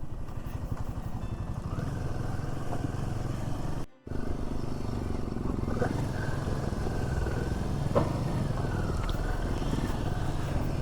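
Motorcycle engines from a large group of bikers rumble near Karcham bridge on the road to Chitkul, a steady drone with a brief cut partway through and passing whines later.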